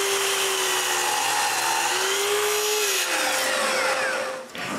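A miter saw set to 30 degrees cuts through wood with a loud, steady high whine that dips as the blade bites, then winds down and falls quiet at the end.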